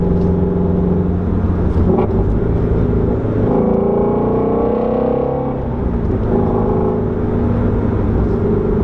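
A Shelby GT350 accelerates in sport mode, its engine giving a loud, sustained rumbling roar that rises and swells in pitch as it builds speed, heard from inside the car.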